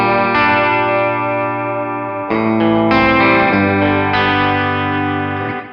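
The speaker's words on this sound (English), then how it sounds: "Just drop the delay time a little bit for a chorusy sound." Electric guitar through a Tech 21 Richie Kotzen RK5 Signature Fly Rig into an amp, delay time shortened to a chorus-like shimmer; a handful of strummed chords ring out in turn, thick and doubled, sustaining loud and clear without speech.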